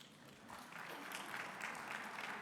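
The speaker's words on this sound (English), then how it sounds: "That's round for applause right there." Applause from a conference audience at a plenary session of the Governor's Conference on Housing and Economic Development, steady and fairly faint, building slightly over a couple of seconds with no voices over it.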